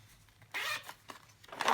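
A zipper on a zipper pouch is pulled open in a few quick, raspy bursts, close and fairly quiet with short pauses between strokes.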